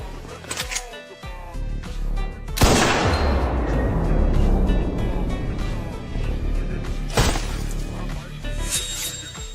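An explosion blasts through an animated drama scene, a heavy burst followed by a rumbling, crackling debris tail, with a second sharp hit near the end, loud and up close.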